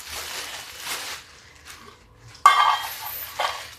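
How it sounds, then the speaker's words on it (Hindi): A pan being set onto a gas stove in a home kitchen produces a couple of close, loud metallic clanks and scrapes with brief ringing between quieter handling sounds, without talk. "ये देखिए गैस चढ़ा दिया मैंने, ये देखिए, और चढ़ा दिया इस पर पैन"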